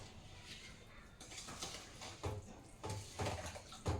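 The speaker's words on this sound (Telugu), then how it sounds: "ఇవన్నీ కూడా మంచిగా ఒకసారి మిక్స్ చేసుకోవాలి" A spoon mixes semolina batter with curd and oil in a bowl, making soft, faint wet scraping and periodic clinks against the bowl in a steady stirring rhythm, close and quiet.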